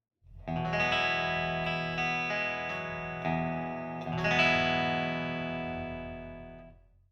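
Clean electric guitar chords ring out through an amp, several strums with sustained, shimmering tone and a slow fade at the end.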